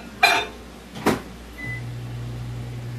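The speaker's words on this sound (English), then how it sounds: "And now it's going to go in the microwave for 1 minute." A microwave oven heating rice: two sharp clunks from the door and controls, a short beep, then a steady low electric hum running on alone, close and fairly quiet.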